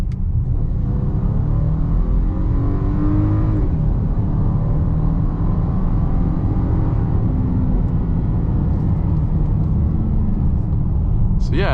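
Volkswagen Atlas Cross Sport 2023 V6 SUV accelerating hard from about 25 under full throttle, a loud continuous engine and road roar with a rising tone and a brief shift, heard from inside the cabin.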